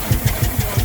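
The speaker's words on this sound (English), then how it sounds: "I'll stop the engine briefly so you can see it" A Herreshoff triple expansion steam engine runs close by with a steady rhythmic beat, about five even thumping strokes in under a second, loud over a constant hiss.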